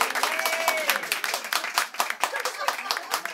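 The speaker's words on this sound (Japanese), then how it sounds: "皆さんちょっとお母様に大きな激励の拍手を、" An audience at a live music show claps warmly for a performer's elderly mother, a dense round of applause that stays steady and close while a voice speaks over it.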